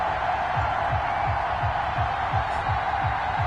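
Stadium crowd in Madden NFL 21 before a Dallas Cowboys versus Denver Broncos matchup: a steady, loud wash of crowd roar and cheering, with a regular pulsing rhythm running underneath and no clear speech.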